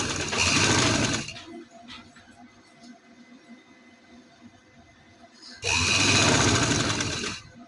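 A sewing machine stitches a dupatta in two fast, loud bursts, with quieter handling sounds and faint movement in the pause between them.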